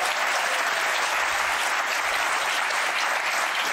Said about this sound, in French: On les applaudit, s'il vous plaît.